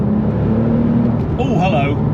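Porsche 911 Turbo with 480 horsepower accelerating hard in second gear, a loud engine roar rising in pitch from inside the car, with a voice speaking over it.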